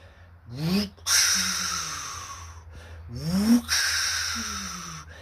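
A voice twice imitates a turbo diesel truck's exhaust whoosh on letting off the throttle, each a rising breathy sweep followed by a sustained hissing rush.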